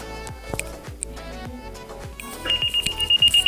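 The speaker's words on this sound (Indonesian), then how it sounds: "ketika di atas 35 derajat Celcius, dia akan berikan sinyal alarm warning" A temperature alarm from an egg incubator controller with a DHT11 sensor goes off once the heat passes 35 °C. A rapid series of loud, pulsed electronic beeps starts about halfway through, after softer clicks and tones.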